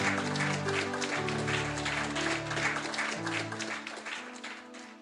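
A church congregation applauds in acclamation of Jesus, a sustained wash of clapping over steady low musical tones from instruments, fairly even in level from start to finish.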